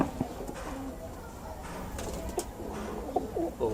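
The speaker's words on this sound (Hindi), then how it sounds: "और ये मादी है इसके साथ।" A male domestic pigeon beside its mate in a breeding loft gives several soft, rolling coos, close and moderately loud, the throaty calls clustering toward the end over a light background hiss.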